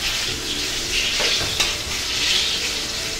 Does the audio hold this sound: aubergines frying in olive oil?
yes